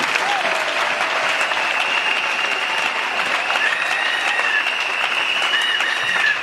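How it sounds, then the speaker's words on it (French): Sustained, loud applause from a church audience at a religious conference, thick steady clapping mixed with whoops and whistles that carry on throughout without a break. "Est-ce qu'on peut acclamer ces bons Dieu?"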